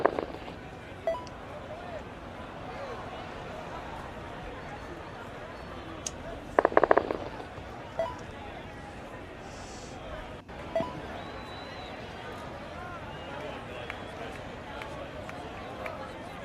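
Looped stadium crowd ambience from a baseball video game, a steady murmur of distant fans with a few brief sharp blips, running under occasional commentary voices.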